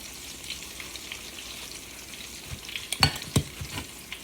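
Pork chops frying in grease, a steady sizzle throughout with sharper crackles and pops bursting out near the end, close and fairly loud.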